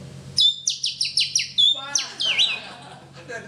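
A person whistles an imitation of a bird call: a run of rapid, bright chirping notes followed by a warbling trill, loud and close, with no talk over it.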